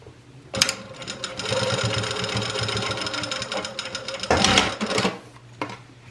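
A sewing machine stitches down a seam on a pencil case, running in a steady mechanical whir for several seconds with a few short starts and a brief second burst near the end, close and clear.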